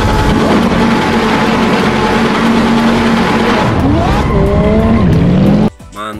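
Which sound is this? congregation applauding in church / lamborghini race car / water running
lamborghini race car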